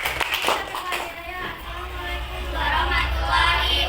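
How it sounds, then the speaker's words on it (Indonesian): A class of schoolchildren applauds a group's presentation, with scattered clapping near the start giving way to a steadier, moderately loud wash of hand claps and room noise. "Beri tepuk tangannya."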